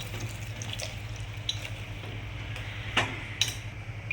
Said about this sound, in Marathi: गरम पाणी टाकायचं, गार पाणी टाकायचं नाही